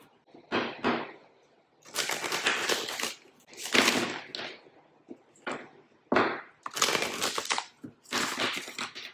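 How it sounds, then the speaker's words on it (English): A deck of tarot cards is shuffled in several separate bursts of brisk, papery riffling and flutter, close by, with short quiet gaps between them. "I'm going to shuffle the deck 5 times."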